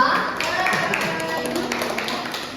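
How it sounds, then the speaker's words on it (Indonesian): Schoolchildren in a primary classroom clap for a group of classmates, a busy patter of small hands mixed with chatter and voices, moderately loud and close. "Oke, tepuk tangan untuk kelompok 2."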